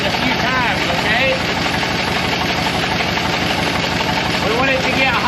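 A rebuilt Buick 364 V8 running with oil conditioner circulating through it, a steady loud idle with constant mechanical drone and faint ticking, held evenly throughout.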